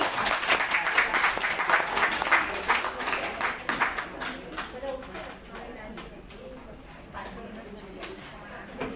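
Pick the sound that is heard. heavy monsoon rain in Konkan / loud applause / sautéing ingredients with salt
loud applause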